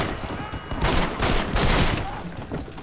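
A high-powered pistol fires in Red Dead Redemption, with loud, close shots in two quick bursts that overlap into a rolling volley.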